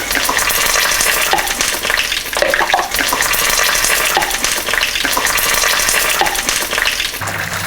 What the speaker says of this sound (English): we're just deep frying the wontons